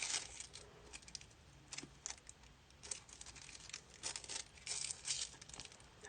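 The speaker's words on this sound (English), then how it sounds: "once it's cooled, you simply peel it off" The cooled backing is peeled off a fabric postcard, giving faint, close crinkles and small tearing crackles in uneven bursts against a quiet room.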